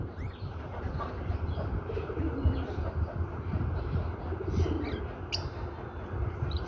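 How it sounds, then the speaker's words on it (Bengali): Pet lovebirds kept at home give faint, scattered chirps and calls against a steady low background hum, with no talk. "এগুলা ভালোবাসার পাখি।"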